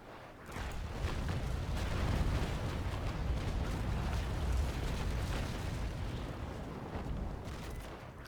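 Naval Action ship cannon broadside, a dense rumbling roll of overlapping booms lasting several seconds, close and loud with no talking.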